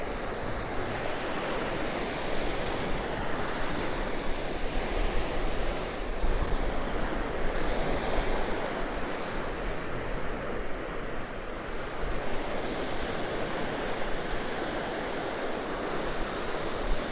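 Waves of an incoming tide wash steadily onto Cromer beach, a continuous broad surf roar with gusty wind buffeting the microphone throughout, no voices.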